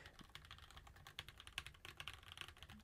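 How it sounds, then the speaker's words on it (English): Steady, fairly quiet typing on a clicky mechanical keyboard with tactile Sunflower switches, irregular keystrokes pattering close by and no voices. "you can definitely hear me typing as it is going"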